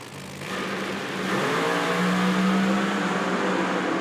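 Drag racing cars run side by side down a racetrack at an IHRA Outlaw Nitro Series event, a fairly faint engine roar building from quiet into a sustained, revving drone.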